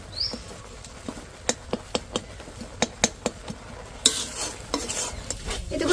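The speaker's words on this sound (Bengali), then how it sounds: "আর দিয়ে দিচ্ছি এক চামচ নারকেল কোড়া ভালো করে নেড়ে নেড়ে শুকিয়ে নেব একদম" A spoonful of grated coconut being stirred dry in a pan, a close run of sharp scraping taps in an uneven rhythm over a soft background hiss, followed by a louder rustling sizzle at the end.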